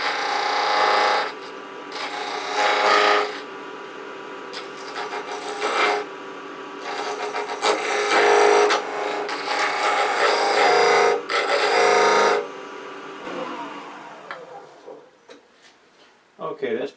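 Spindle gouge turning wood round on a lathe for a carving stand, a steady rasping cut that swells and fades in bursts, with brief pauses between passes, close and fairly loud.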